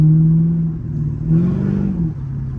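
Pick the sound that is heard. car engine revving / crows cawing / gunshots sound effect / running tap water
car engine revving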